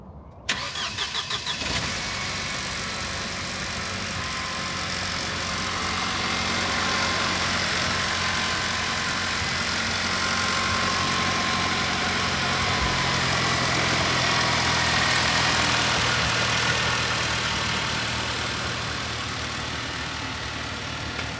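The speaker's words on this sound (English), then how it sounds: "we did a cold start in its parking spot, so we'll go ahead and clip that in" A Mercedes R172 SLK engine cranks and fires on a cold start, then settles into a steady, close idle with a faint rise in revs partway through.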